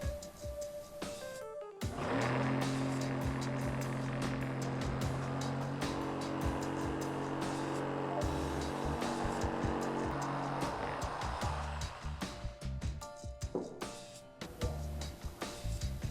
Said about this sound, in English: so I'm going to use a jigsaw.